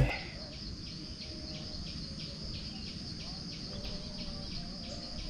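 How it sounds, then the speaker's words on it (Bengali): Crickets trill in a steady pulsing chorus across a botanical garden eco-park at Sitakunda, with occasional faint bird calls mixed in, fairly quiet and distant with no talking. "ঝিঝি পোকা পাখির শব্দ শোনা যাচ্ছে"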